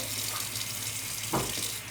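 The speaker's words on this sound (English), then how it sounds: "let me wash my hands while that's cooking" Running tap water splashes steadily into a sink as hands are washed in a home kitchen during cooking, a continuous close hiss with a brief louder gush near the end.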